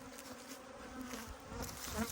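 Honey bees fly toward their hive in warm sunshine, a dense, continuous buzzing drone of many insects close by, steady with slight swells.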